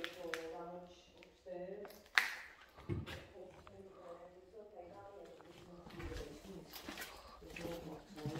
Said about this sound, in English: That was a pigeon.